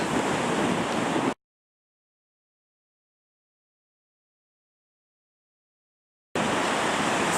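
Ocean surf rolling in at Colac Bay, Southland, a steady broadband wash of breaking waves heard in two short stretches with a long silent gap between them.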